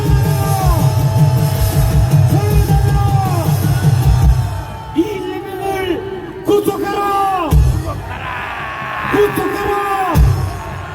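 A crowd at a political rally shouts in unison, loud near roars and sustained yells rising and falling in several waves, with amplified voices and babble between the bursts.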